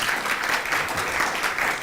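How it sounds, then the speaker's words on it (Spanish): Audience at an academic forum on cybersecurity in Mexico applauding steadily, a dense, even wash of clapping throughout with no talk. "les pido un aplauso"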